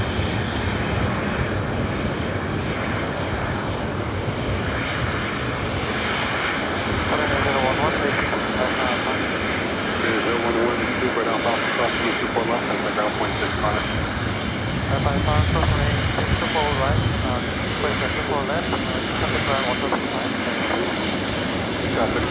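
A Singapore Airlines Boeing 777-300ER waits at LAX before takeoff, its jet engines making a steady, loud rumbling roar with a slight whine, while voices talk over it.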